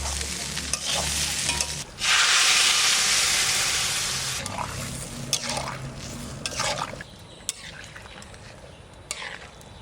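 Water poured into a hot pan of frying vegetables and ginger sends up a loud, sudden hiss that tapers to a steady bubbling sizzle, with scattered stirring scrapes following.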